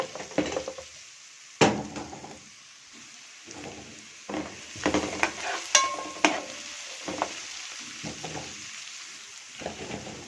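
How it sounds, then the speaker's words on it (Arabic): Onion and garlic sautéing in a pan after sausage, with soft sizzling broken up by repeated stirring scrapes and utensil knocks against the pan, close and fairly quiet. "بعد ما طلعت السجق هنزل بالبصلة والثوم نديها تشويحة"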